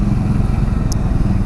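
A Triumph Scrambler 400X motorcycle engine running after being started with a secondary key, a steady low idling rumble close by with no voices.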